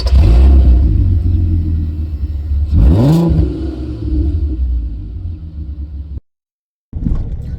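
A barn-find classic Mini's engine rumbles loudly from inside the car on a drive after its MOT, with a rising rev in the middle and a brief drop to silence near the end.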